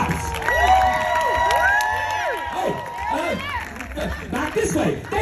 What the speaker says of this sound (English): I want to hear some cheering because now it's time to give the bride and groom their props.